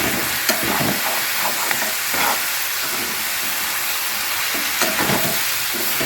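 Garlic and ginger paste sautés in a hot pan with a loud, dense sizzle and repeated scraping stirs throughout, no voices.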